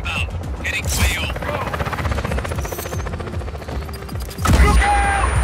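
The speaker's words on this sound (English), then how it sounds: "Helicopter inbound." Helicopter in Just Cause 4 gameplay, a loud continuous rotor chop thrumming under bursts of gunfire, with a heavy boom swelling near the end.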